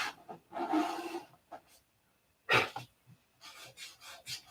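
Hand sanding of doped tissue covering on a model, close-up: bursts of dry rasping strokes with short pauses between them, a longer run near the start and a sharp scrape after a quiet gap.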